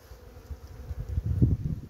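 Honeybees buzz around an open hive during a colony inspection, a soft low drone that swells louder toward the end, close and steady with faint rustling, no talking.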